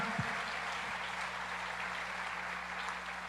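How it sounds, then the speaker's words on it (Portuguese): A church congregation applauds the children at a conference, a steady wash of clapping that holds at a moderate, fairly distant level with no voices over it. "aplauda as crianças dessa casa."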